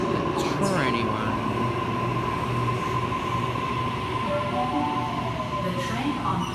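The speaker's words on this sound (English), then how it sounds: "Waratah arriving into platform number 1 for a Penrith service" A Sydney Waratah electric train at Epping station platform 1, a steady close hum of motors and rolling stock with faint squeals and a high tone, continuous and loud for several seconds.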